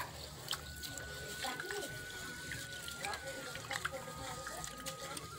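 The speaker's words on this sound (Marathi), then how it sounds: "आता हे 2 पाण्यानं धुवून घेतो." Water sloshing and splashing in a bowl as rice is rinsed by hand in two changes of water, close and continuous, with a running tap and faint kitchen clatter.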